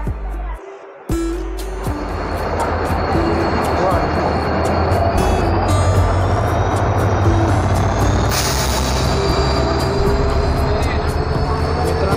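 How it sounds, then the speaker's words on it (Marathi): A Konkan Railway Tutari Express train rumbles into a crowded station with a heavy, sustained roar, a hiss of brakes and rattling wagons, while the crowd's voices mingle underneath. "ट्रेन आली आहे"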